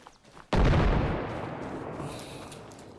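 A single loud, close gunshot or explosive blast in the military shooter Arma Reforger, a sharp crack followed by a long decaying rumble and echo fading over a couple of seconds.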